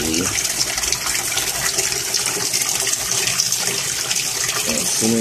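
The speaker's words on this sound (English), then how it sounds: "There it goes. And really starts sucking water out." A water siphon draws water out with a constant, full gushing rush that stays loud and close throughout, with faint voices underneath.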